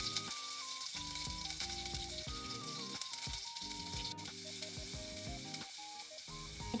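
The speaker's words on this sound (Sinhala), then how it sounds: "තෙල් ටික රත් වුණාම අබැඩ ටිකක් එකතු කරගමු" Mustard seeds, onions, garlic, green and dried chillies, curry leaves and rampe frying in hot oil make a continuous faint sizzle under melodic background music.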